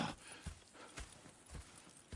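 Horses at a camp in a video game clop their hooves in a slow, steady rhythm, faint and fairly close, with a few soft thuds spaced about half a second apart.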